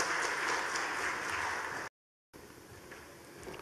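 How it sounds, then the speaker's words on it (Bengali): Audience applause at a bank's 60th-anniversary celebration as a speaker is welcomed to the stage, a fairly faint, even wash of clapping that cuts out briefly in the middle and then resumes. "জোরে করতালির মাধ্যমে অবশ্যই"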